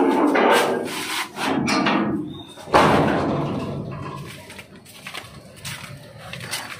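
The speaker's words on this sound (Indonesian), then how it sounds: "Kita buka pintu dulu." A house door is opened for arriving guests, giving a sharp wooden knock and thud near the middle amid rustling and movement, with brief voices nearby.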